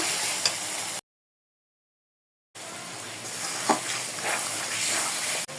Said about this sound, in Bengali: মাছগুলো দিয়ে দিছি কষানোর জন্য